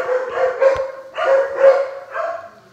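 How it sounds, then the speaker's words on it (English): Dogs barking in a home by a stairway: loud, close, repeated bark bursts in quick succession, with no talk over them. "Those are my dogs."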